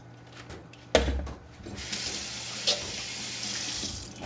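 A kitchen tap runs while hands are washed during beef jerky preparation. A sharp knock or bump opens the sound, then the stream hisses and splashes steadily into the sink, with one small clunk partway through.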